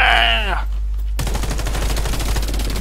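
Automatic gunfire in the first-person shooter Warface, a rapid burst of shots firing in quick rhythm for over a second after a brief voice and a short pause.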